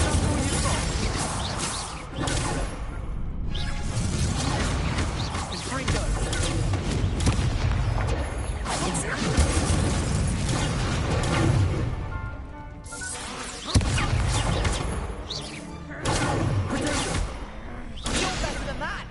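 Repeated Incendio fire spells cast in Hogwarts Legacy, bursting as loud booms and crackling blasts in quick succession over dense game music and combat noise, with a voice talking throughout.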